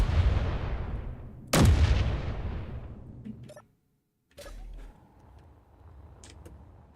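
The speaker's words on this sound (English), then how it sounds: "Artillery turret, let's go 3 maybe. Alright. And now we shoot here." Artillery turret on a ship in Space Engineers firing heavy booming rounds, one strong blast with long rumbling decay, then another shot after a brief silence, loud and close.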